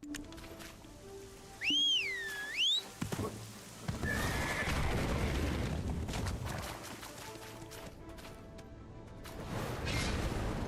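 A horse in a video game gives a loud, clear whinny near the start, followed by hoof clip-clops and rustling movement, with faint game ambience beneath.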